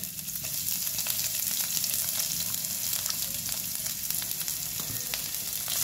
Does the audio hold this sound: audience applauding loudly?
no